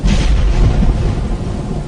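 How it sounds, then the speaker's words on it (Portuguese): Thunder with a hailstorm as a sound effect in a narrated Bible reading of Exodus, a short, loud, deep rolling rumble that swells and fades over about two seconds, alone. "mandou trovões, raios e chuva de pedra sobre o país"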